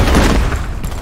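A grenade blast in the shooter game F.E.A.R. Combat, a loud, dense burst of booming, crackling noise that fills the whole second and tapers only slightly toward the end.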